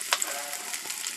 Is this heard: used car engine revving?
no